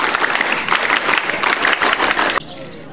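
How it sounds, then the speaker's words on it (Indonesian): Scout group at a junior high school badge ceremony claps together in a dense, loud burst of rhythmic clapping that runs for over two seconds, then stops abruptly. "Dua kali tepuk Pramuka."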